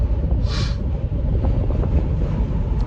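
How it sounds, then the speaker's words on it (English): Strong wind buffets the microphone in a steady, heavy low rumble, with a brief hissing gust near the start and no voices. "it is very windy"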